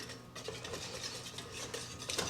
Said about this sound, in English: since I'm using this whisk, it's fine